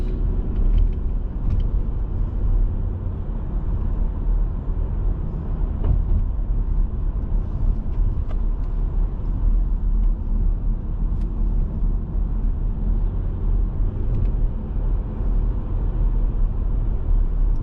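A car drives along Queens Boulevard through Forest Hills in Queens, New York City, with steady road rumble and traffic noise throughout and faint passing sounds over the low engine drone.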